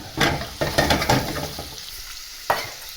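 Bacon sizzling in a pan over high heat for soup, a bright hissing crackle with a few clanks from stirring, close up, fading slightly before one last clatter.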